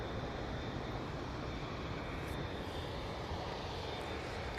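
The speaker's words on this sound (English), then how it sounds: "787-9 Dreamliner now coming on to 2-3 left. Off to Doha, it's QR26" A Qatar Airways Boeing 787-9 Dreamliner on the runway at Manchester Airport, its jet engines giving a constant, loud, broadband roar with a touch of wind noise.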